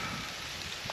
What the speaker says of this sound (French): il pleut sous ce soleil